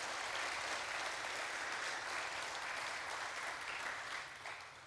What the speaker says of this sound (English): Let's please give another round of applause to our participants.